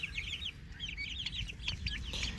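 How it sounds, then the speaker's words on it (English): Backyard turkeys in a pen give quick, high chirping and clucking calls, several overlapping in a busy run at close range over a quiet background. "There's the turkeys."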